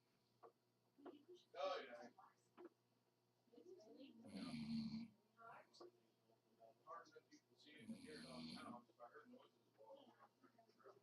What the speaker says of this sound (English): Sounds like he's snoring.